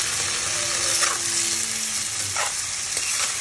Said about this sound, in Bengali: এবার আমি করল্লাটা ঢেলে দেবো।